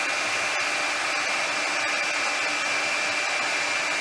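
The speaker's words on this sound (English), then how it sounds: "So I'm gonna hit it with the heat gun again" A heat gun blows a constant loud, close rushing whir while softening a handmade doll intestine prop.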